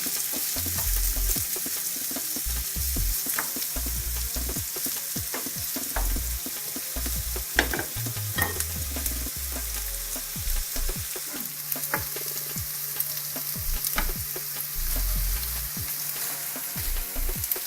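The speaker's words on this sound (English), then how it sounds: "to fry it until they get a little bit brown because it gives a better flavor" Food fries in a pan until browned, for a crockpot dish cooked in the Balkans: a continuous close sizzle with occasional pops and stirring scrapes, with no talk.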